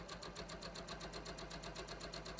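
A sewing machine running a very short gathering stitch, its needle pounding in a fast, even rhythm, faint and mechanical, with no one speaking.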